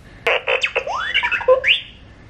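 A brief burst of electronic beeps and whistling chirps from light-up toy ears, warbling up and down like a little robot toy, close and fairly loud.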